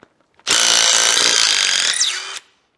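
A power tool whines steadily for about two seconds, loud and close, running out the short lightweight water pump bolts on a mid-1970s Pontiac engine during teardown, with a rising pitch sweep near the end before it cuts off.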